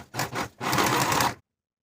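A sewing machine finishes the raw edges of a curved jeans seam with two short bursts of stitching followed by a longer steady run, then stops into silence.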